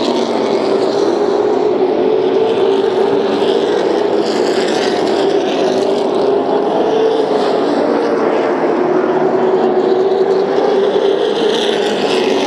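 Late model race cars roar down the back straightaway of a track, a continuous loud engine drone with a steady pitch held for the whole stretch.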